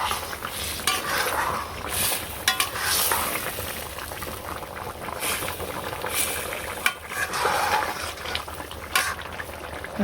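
Cumin seeds tempering in hot oil sizzle steadily in a village kitchen, a continuous close crackling hiss with scattered sharp pops and occasional stirring scrapes, no talking.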